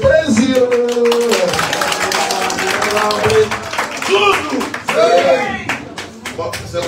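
Audience applause at a press conference, a dense, sustained clapping that continues throughout alongside a voice speaking loudly over it.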